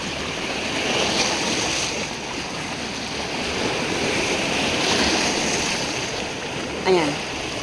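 Sea waves wash continuously onto a beach, a steady broad surf noise with gentle swells, with a brief voice cry near the end.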